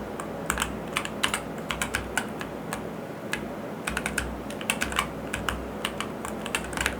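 Rapid, uneven clicking of computer keyboard keys, close and clear, with short bursts and brief pauses over a low hum, while playing the driving game BeamNG.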